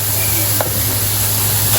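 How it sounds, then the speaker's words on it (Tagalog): Pork liver is added to a pan and stirred for pork igado, giving a loud, steady close sizzle with a constant low hum underneath. "Ito pong ating atay ay lalagay na rin po natin. Hahaluin lang po natin."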